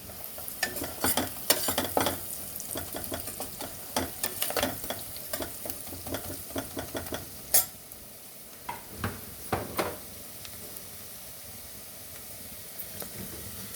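Onions fry with a little salt in a pan for a village-style potato and chana dal curry, giving a steady soft sizzle broken by frequent sharp scraping strokes of a spoon.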